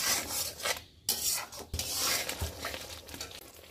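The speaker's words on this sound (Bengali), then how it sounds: "এটাকে আমি একটু ভালো করে কষে নেব।" Spice paste of ground cashew and yogurt stirred and scraped in oil in a pan, with rasping spoon strokes and soft sizzling in uneven bursts, close and fairly quiet, no talk.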